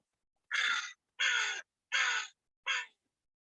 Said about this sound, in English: Maybe you can hear the crow in the distance.